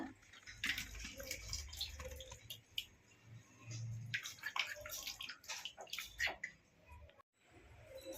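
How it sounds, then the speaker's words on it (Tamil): Tamarind water splashes into a simmering fish curry with chili powder, giving a series of close liquid pours and drips followed by soft bubbling, fairly quiet with irregular bursts of spattering. "மிளகாத்தூள் வாட்டை போனதுக்கப்புறம் புளி சேர்த்துக்கோங்க"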